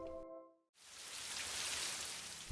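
Steady rain falls in a movie scene on a gloomy day, a soft, even hiss that starts after a short tonal hum and a brief gap, then continues alone at a low level.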